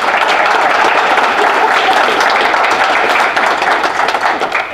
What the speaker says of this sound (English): let's give our candidates a nice round of applause here